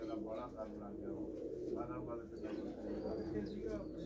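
Pigeons kept by a pigeon fancier in Dhamot village coo softly and steadily under a voice talking nearby.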